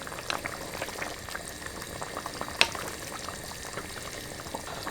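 A pot of keema aloo mattar, minced meat with potatoes and peas, bubbles at a rolling boil over high heat, a close continuous burble with small pops and one sharper clink.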